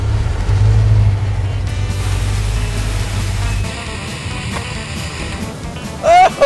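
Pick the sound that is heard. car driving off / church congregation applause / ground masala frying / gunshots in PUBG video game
car driving off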